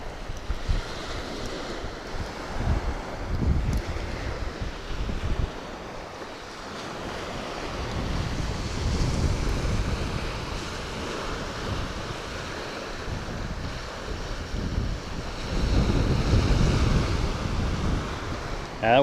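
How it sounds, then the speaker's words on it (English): Wind gusting along the Florida Gulf coast at a fishing spot, a steady broadband rush with surging gusts, mixed with surf wash and microphone buffeting, no voices. "that wind is blowing right at my back"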